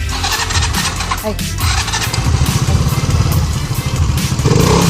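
A small Rusi Adventure X CVT motorcycle engine starts and revs, its throbbing growing louder near the end, with a brief shout over it.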